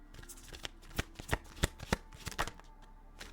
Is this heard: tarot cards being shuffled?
yes